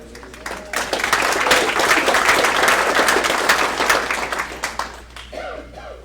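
A planning commission meeting on a solar energy project breaks into a round of applause: a dense, fairly loud clatter of many hands that rises, holds for a few seconds, then thins out as a voice returns.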